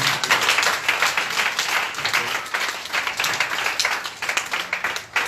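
A church congregation claps and applauds during a Sunday worship service, a steady, dense wash of many hands that holds loud throughout before tapering slightly at the end.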